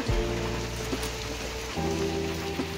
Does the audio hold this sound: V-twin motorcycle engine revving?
no